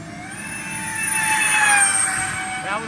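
An RC model Airbus A330-600 jet makes a low pass, its turbine whine rising and sweeping in pitch as it roars closer, peaks overhead and fades slightly, set against steady outdoor rumble.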